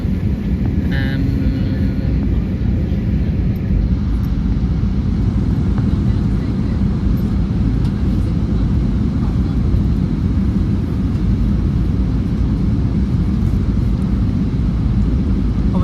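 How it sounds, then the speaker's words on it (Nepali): Inside an airliner slowly descending toward landing at Dubai airport, a steady, loud cabin rumble fills the whole stretch, with a person talking over it. "एयरपोर्टमा ल्यान्डिङ हुनलाई चाहिँ बिस्तारै प्लेनले चाहिँ बिस्तारै ठाउँ सारिरहेछ"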